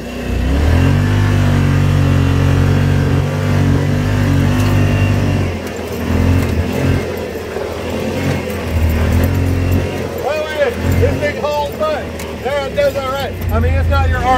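A Yamaha Wolverine X2 XTR side-by-side drives on a trail in Southern California, its engine a steady loud drone that shifts as it revs, with people talking over it inside the cab.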